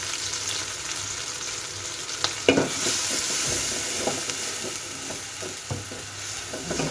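Ginger and garlic paste frying in a pan, a steady close sizzle broken by scattered sharp scrapes and clinks of a spoon against the pan, with no talking.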